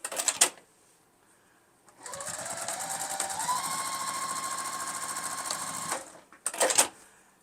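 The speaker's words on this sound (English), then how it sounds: "Start stitching at the batting." A sewing machine stitches through fabric and quilt batting with a short stitch length, running in a steady, rapid whir for about four seconds, framed by brief handling noises before and after.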